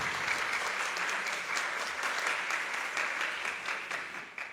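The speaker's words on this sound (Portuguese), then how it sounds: "Palmas para eles." Sustained applause from an audience, steady and dense clapping throughout, fairly close, with no talking over it.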